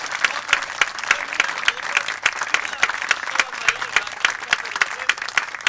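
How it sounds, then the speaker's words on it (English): Outdoor audience at a pirate show in Beaufort applauding a Blackbeard performer, a steady patter of many hands clapping with a few sharper claps standing out. "Let's give a round of applause to my friend Blackbeard."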